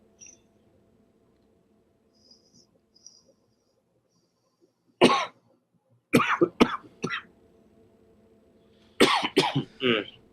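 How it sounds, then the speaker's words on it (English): A few sharp coughs in quick bursts after vaping, then a longer fit of harsh coughing near the end, with quiet background between. "No, you're gonna cough again."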